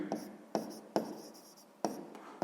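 A pen writes by hand on paper during a sixth-grade math exercise, giving quiet, close scratchy strokes in short bursts with small taps between them.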